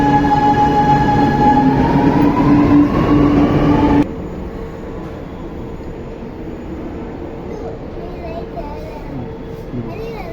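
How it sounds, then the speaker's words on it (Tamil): A loud train rumbles past with a tonal squeal, then cuts to a quieter rolling hum with a voice speaking faintly. "ட்ரெயின் போயிடுச்சு பாரு"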